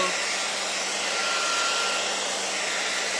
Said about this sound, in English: Let me get my blow dryer.